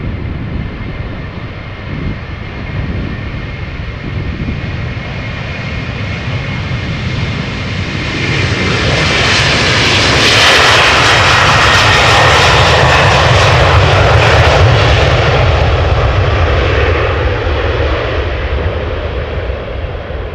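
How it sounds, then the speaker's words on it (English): Airbus A330-200 airliner in SLM livery taking off from Amsterdam Schiphol, its engines roaring loud and continuous, swelling to a peak midway as it passes near, then holding a broad rumbling thrust. "livery from SLM outbound to Paramaribo, Airbus A332"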